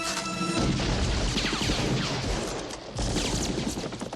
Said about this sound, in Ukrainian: На початку стрілянини в руках Джонса револьвер.